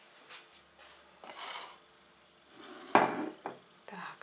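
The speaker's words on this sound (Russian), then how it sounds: "я ее все-таки перелью в тарелку" Store-bought GlavSup solyanka soup being poured from its container into a favourite plate, with soft clinks and scrapes of dishware and a louder clatter near the end, close and fairly quiet with no talking.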